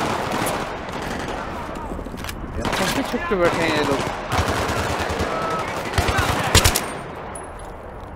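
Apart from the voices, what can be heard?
gunfire in the video game Battlefield 3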